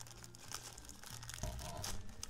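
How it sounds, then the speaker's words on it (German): A plastic bag from a puzzle advent calendar is torn open and crumpled, giving a quiet run of crinkling and ripping bursts close by, with no talk. "Dann öffnen wir die Tüte mal."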